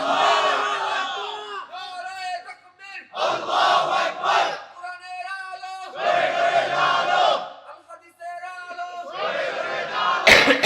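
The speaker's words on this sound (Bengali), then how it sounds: "আল্লাহু আকবার, জোরে তাকবীর, আল্লাহু আকবার।" A large crowd roars the takbir, "Allahu Akbar," in three loud, massed bursts of shouting, each one answering a preacher's call at a religious gathering, with the calls and pauses heard in between.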